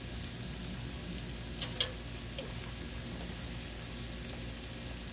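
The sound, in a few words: cabbage frying in ghee on a Blackstone griddle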